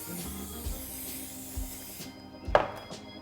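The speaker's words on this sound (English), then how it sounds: "a non-stick spray." Canola oil non-stick cooking spray hisses onto a sheet pan in a close, steady burst of about two seconds, followed by a few light clatters and rubbing sounds.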